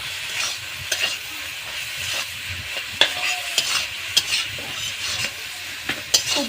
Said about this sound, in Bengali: খুব ভালো করে এবারে আমি কষিয়ে নেব।